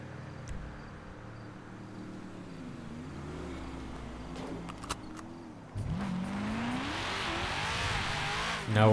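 A car engine in a GTA-based ESX game server hums and shifts pitch as it revs, with rising whine and a louder burst near the end, heard alone without talk.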